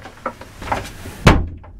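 Small interior door of a Sabre 28 sailboat's head swung shut, with a few light knocks and creaks, then a single solid thump as it closes, heard close up with no one talking.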